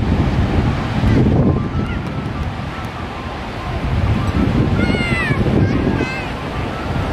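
Ocean surf rolls in at Kuta Beach, Bali, with gusts of wind buffeting the microphone, a continuous rumbling wash of waves that swells and eases, fairly loud and close.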